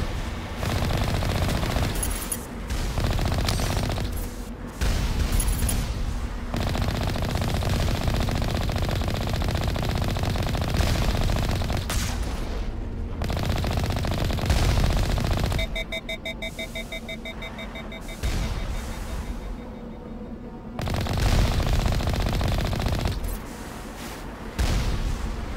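Sustained automatic gunfire from the video game Mass Effect, loud and nearly continuous with brief pauses, plus beeping electronic game sounds in the middle stretch.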